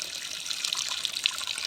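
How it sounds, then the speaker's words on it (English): Water draining out of a kitchen sink used as a planter, a steady close hiss and trickle with small gurgling pops, continuous throughout with no voices. "I'm just draining out the water here"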